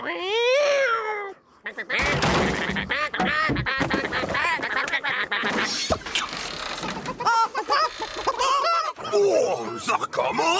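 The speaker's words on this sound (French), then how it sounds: "Dans la grange, les canards n'ont toujours pas trouvé où s'asseoir." Cartoon ducks quack in a barn in a French children's tractor series, with busy repeated quacks and squawks, loud and close, mixed with voices, music and sound effects.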